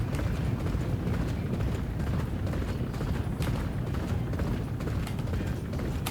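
Racehorse galloping in the Champion Jockey racing video game during a Grade 3 race, a dense, continuous rumble of hoofbeats with crowd and field noise packed in, loud and steady without pause.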